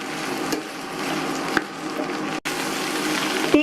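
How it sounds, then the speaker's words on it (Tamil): Okra sautéing in coconut oil over a medium flame makes a dense, continuous sizzle close by, with occasional spoon clicks against the pan and a brief cut partway through. "மீடியம் ஃப்ளேமில் வச்சு வதக்கிக்கங்க."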